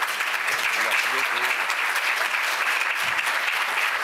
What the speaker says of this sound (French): je voudrais que vraiment vous applaudissiez